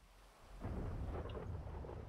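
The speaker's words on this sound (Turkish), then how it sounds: "Al işte, yağmur yağıyor." Rain and a low rolling rumble of thunder from GTA V on PC swell up after a quiet start and hold as a steady, dense wash with no talking.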